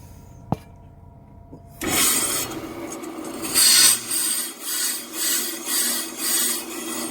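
Brake lathe cutting the surface of a rusty, worn rear brake drum: a click and motor start, then a continuous close grinding rasp that swells and fades in regular pulses as the drum turns.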